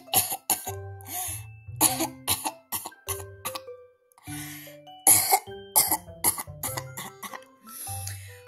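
A run of repeated coughs and throat-clearing bursts, close and fairly loud, coming in short irregular clusters with brief pauses between them.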